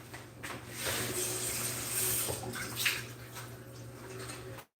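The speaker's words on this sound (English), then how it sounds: "I'm going to rinse my pan out and be right back" A pan is rinsed under running water in a home kitchen after making sourdough sticky buns, a soft steady splash and trickle heard close by with no talking.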